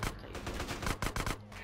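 Pedestrians open fire in the video game GTA San Andreas, a rapid run of gunshots and bursts from an automatic weapon, fairly quiet and without talk.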